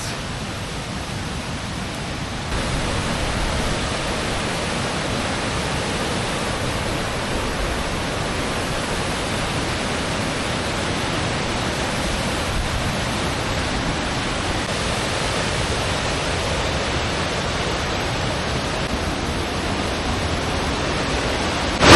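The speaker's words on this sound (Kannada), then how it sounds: "ಮೊರೇಗಾರ್ ಫಾಲ್ಸ್." Muregar Falls near Sirsi in Uttara Kannada, in the monsoon season, roars as a loud, unbroken wash of falling water that swells slightly after the first couple of seconds and holds steady, with no voices.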